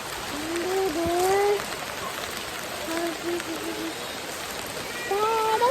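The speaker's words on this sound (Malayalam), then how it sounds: "നല്ല മഴയുണ്ട് ഗൈസ് നല്ല മഴയുണ്ട്" Heavy rain pours down outdoors as a dense, steady hiss, while a person talks over it in short phrases.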